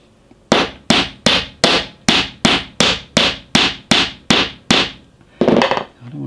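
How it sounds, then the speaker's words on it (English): A steel pin is hammered through a hinge resting on a block, about a dozen sharp, evenly spaced metallic blows in quick steady rhythm, close and loud, followed by a brief rougher knock at the end. "I just have to hammer it all the way through to make this work"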